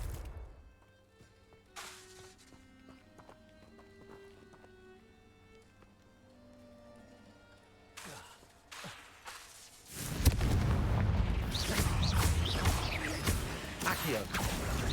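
Confringo spell explosions in the Hogwarts Legacy video game: after soft whooshes and light game effects, a loud fiery burst erupts and turns into a sustained roaring, crackling blast.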